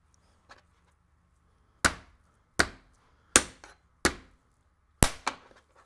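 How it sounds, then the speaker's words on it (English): A cleaver whacking raw venison backstrap on a board to butterfly it: five sharp, loud chops spaced about a second apart, close and crisp against near silence, preceded by one faint tap. "Take it, give it a couple whacks. If you have a bigger cleaver, you might only have to hit it once."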